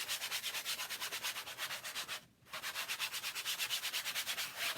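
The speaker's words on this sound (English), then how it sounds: "I'm going to lightly sand my canvas to remove those bumps" A canvas is sanded lightly by hand in quick, even back-and-forth rubbing strokes, soft and close, with one brief pause midway and no talk.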